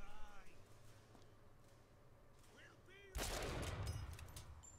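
Sniper rifle shot in BioShock Infinite, a single loud sharp crack about two-thirds through, followed by a sustained burst of noisy reverberation, after quieter game ambience with faint chirps.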